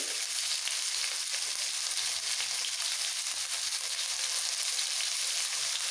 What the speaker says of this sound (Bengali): কুমড়ো আলু ফুলকপি একটু তেলের মধ্যে নাড়াচাড়া করে দিয়ে দেবো